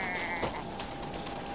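A sheep in Super Mario Odyssey lets out a bleat, close and fairly loud, followed by a few softer wavering bleats over a low game background, with no talking.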